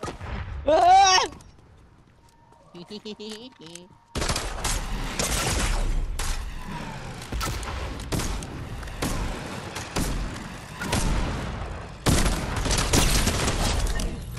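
Rapid bursts of video game gunfire in Fortnite, loud and dense, with shots and impacts running almost continuously after a brief quieter stretch, while players talk excitedly over the action.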